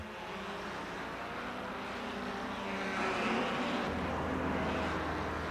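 Formula 2 Cooper and stripped-out sports Porsches racing at the 1957 German Grand Prix: a steady, dense engine roar that swells louder partway through, with no talk.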